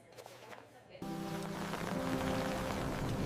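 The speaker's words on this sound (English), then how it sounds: "It's starting to rain very hard." Heavy rain starting, a sudden jump from quiet to a steady, dense hiss of downpour that holds loud and constant for the rest of the stretch, with a low tonal hum running beneath.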